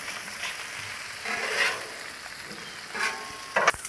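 Potatoes and sausage frying on a Blackstone griddle, a steady sizzling hiss with brief swells and a quick scrape of a spatula near the end, close and without voices.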